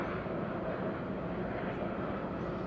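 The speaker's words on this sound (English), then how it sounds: "British Airways A321 from Gatwick" A British Airways A321 airliner from Gatwick at Madeira Island Airport makes a steady, broad jet engine roar that stays loud and even from start to finish, with no talking.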